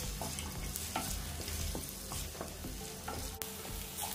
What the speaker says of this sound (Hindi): इसके बाद डालेंगे इसमें प्याज, इसे हल्का सा कलर आने तक होने देंगे।